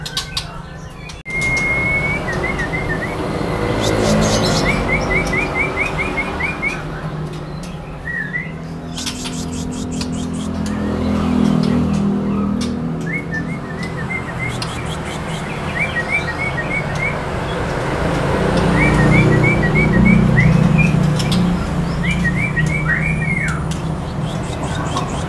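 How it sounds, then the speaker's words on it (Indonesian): A male spotted Medan white-rumped shama sings short, bright, repeated phrases at intervals over a constant, busy background hum. "Berikutnya di sini ada burung murai Medan trotol jantan ya"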